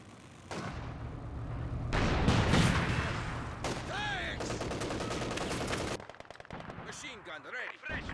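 Machine gun fire in a Company of Heroes 2 match, bursts of gunfire and battle noise rising and falling across the clip, loud and dense, with game sound effects layered on top.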